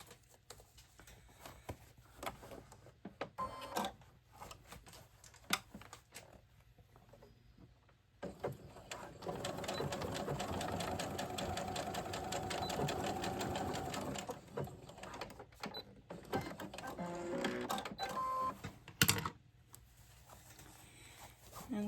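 A sewing machine stitching doll clothes closed, with a few handling clicks before a long, steady whirring run, then short bursts and pauses as the stitching finishes.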